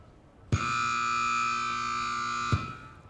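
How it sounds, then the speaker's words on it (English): A buzzer sounds once in a cattle sorting arena at a ranch sorting finals, a steady harsh electronic tone lasting about two seconds with sharp onset and cutoff, loud and clear over faint background noise. "there sounds the buzzer"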